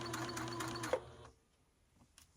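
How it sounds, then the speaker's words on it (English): A sewing machine runs in a quick rapid burst, stitching a hem on spandex knit, then stops abruptly, leaving near silence with a faint click afterward. "I'm going to go slower because I want to make sure that the stitches are nice and even on the outside"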